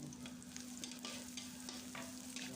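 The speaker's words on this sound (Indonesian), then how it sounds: "kita tumis bumbunya." Spice paste sautéing in a pan for vegetable lumpia filling, a faint, steady sizzle with soft stirring scrapes running continuously under a low hum.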